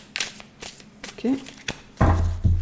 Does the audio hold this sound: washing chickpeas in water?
no